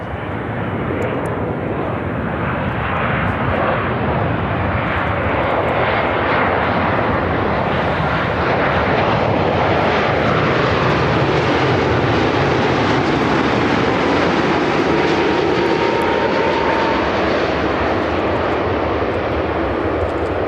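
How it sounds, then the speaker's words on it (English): An American Airlines Boeing 787-9 Dreamliner arriving from London at Chicago O'Hare makes a loud, steady jet roar that lasts the whole stretch. It swells slightly near the middle as the airliner passes close by. "It's a 787-9 Dreamliner."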